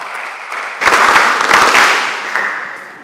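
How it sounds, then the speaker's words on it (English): Audience applause bursts out at a mentorship session as a speaker is welcomed, dense clapping swelling loud from quieter crowd noise and holding steady before easing slightly, with no talk over it. "with a big round of applause"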